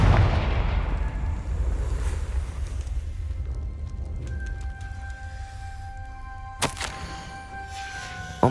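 A fiery spell explosion from the Hogwarts Legacy video game bursts loudly at the start and rolls into a long, fading rumble, followed by a sharp crack and a ringing, tonal shimmer near the end.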